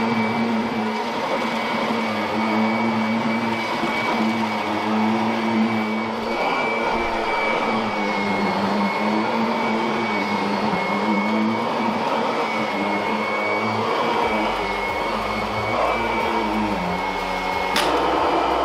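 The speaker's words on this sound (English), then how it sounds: "I'll spin the Kirby around and you'll see it just glides across your sculptured carpet" Kirby Avalir 2 upright vacuum cleaner running steadily over sculptured carpet, a loud continuous motor drone with whining tones and slight pitch wobble as it glides back and forth, ending with a brief sharp click.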